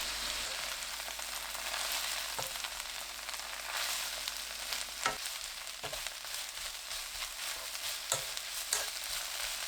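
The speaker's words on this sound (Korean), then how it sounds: "깻잎 넣고 1분 20초 볶아주세요." Perilla leaves stir-fried over high heat with minced garlic and onion in olive oil, a bright continuous sizzle with occasional sharp scrapes and clicks of stirring, close and alone.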